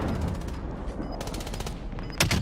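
Rapid bursts of unsuppressed assault rifle fire rattle through a Warzone match, loud and dense with a heavier burst at the end, as faint voices talk underneath.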